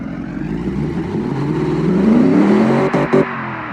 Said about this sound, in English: The engine seems to be running fine.